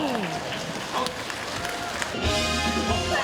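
An audience applauds a singer on a Korean TV show, a steady wash of clapping throughout, with a deeper tone and some voices rising near the end.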